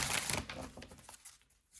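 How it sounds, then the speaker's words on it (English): Tarot cards being shuffled by hand close up, a loud dense riffle of papery flicks that thins out and fades toward the end. "I am shuffling, so it may be a little loud"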